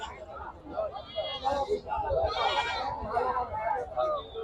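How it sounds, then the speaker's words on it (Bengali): Goats bleat among one another over a steady background of chatter at a local goat market, several overlapping calls rising and falling close by. "বড় বড় সব পাঠি ছাগল"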